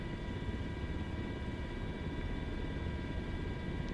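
Simulated Sikorsky MH-60 Blackhawk helicopter climbing over treetops on a firefighting mission in Portugal, a constant heavy rotor and turbine drone with a steady whine, loud and unbroken throughout.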